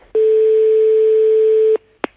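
A telephone line rings on an outgoing prank call: one long, steady ringback tone that stops abruptly, followed by a short click as the call is picked up.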